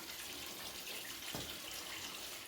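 Fluid drains from a Jeep TJ radiator onto cardboard in a faint, steady trickling hiss, with one brief low thump partway through.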